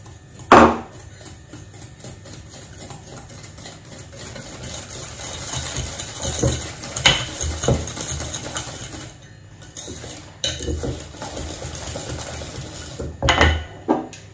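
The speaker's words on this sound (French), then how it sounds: "Je tamise les poudres ensemble au fouet" A whisk sifts powdered icing sugar and other dry powders together, giving repeated metallic clinks and scraping rattles against the bowl, with a few louder knocks across about fourteen seconds and no talking.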